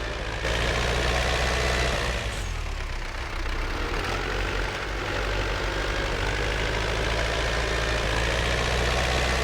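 A tractor engine in Farming Simulator 17 runs at a steady low idle, a continuous deep rumble with a brief shift in tone early on, loud and even, with no voices.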